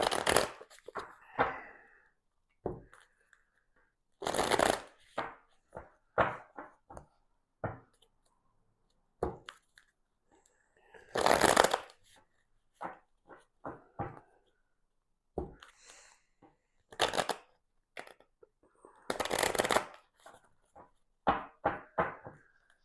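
Tarot cards are shuffled close by in repeated bursts of riffling and brisk flapping. Short clicks and taps come between the bursts, with quiet gaps, and no one speaks.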